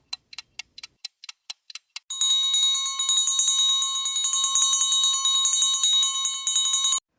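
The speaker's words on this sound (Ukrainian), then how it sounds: "це дзвіночок." A small bell gives about ten quick separate tings, then rings in a continuous bright, shimmering trill for several seconds before stopping abruptly.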